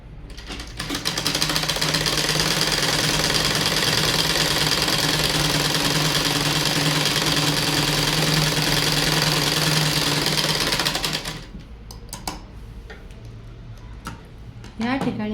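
A sewing machine stitches a shoulder seam on a kurti, running loud and steady with a fast, even mechanical rattle for about ten seconds before stopping, followed by quieter handling noises and small clicks.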